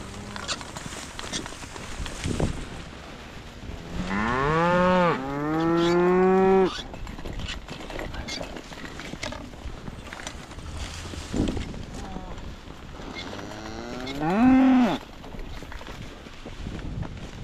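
Cattle moo close by: one long, drawn-out moo rises and then falls, and a shorter second moo follows later, set against outdoor background noise and brief voices.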